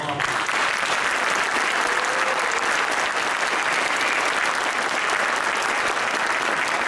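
Audience applause at a Marko Paşa event in Beypazarı, Ankara, a loud, dense, continuous roar of many hands clapping at an even level throughout, with faint crowd noise mixed in.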